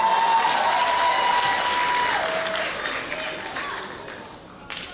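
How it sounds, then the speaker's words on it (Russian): Sustained applause from a concert crowd for a music group fills the room, broad and steady, slowly tapering off toward the end. "Ваши аплодисменты!"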